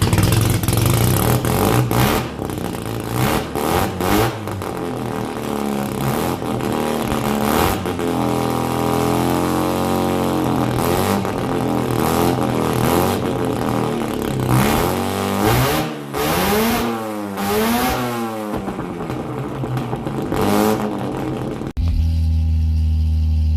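A Mazda RX7 rotary engine swapped into a Ford Ranger and running without a muffler revs loudly and close by. It climbs and drops in repeated rising and falling sweeps, with a raspy, buzzing exhaust throughout and a brief cut near the end.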